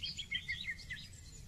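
Birds chirp and sing faintly on a meadow, a few thin high twittering phrases over a soft, steady low background hum.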